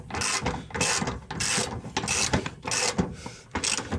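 Ratchet tightening self-locking nuts on the fuel pump of a 1999 Dodge Ram 1500, a series of quick rhythmic clicking strokes, close and fairly loud, repeating in short bursts.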